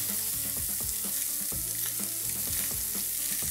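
Onions hit a hot pan for a braise, making a loud constant sizzle with rhythmic clinks and scraping of a utensil layered over it, up close and with no one speaking.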